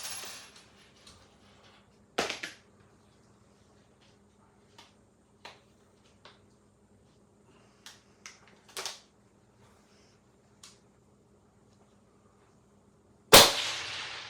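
Rifle shots fired at clay pigeon targets 1,000 yards away: two loud, sharp cracks stand apart, with scattered faint clicks and taps in between over a near-silent background.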